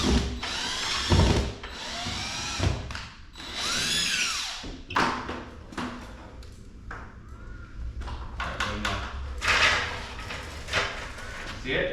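A power drill drives a screw into ceiling wood while mounting a ceiling fan light in a condo, with several short bursts of whirring broken by pauses, clicks and knocks, and voices talking nearby.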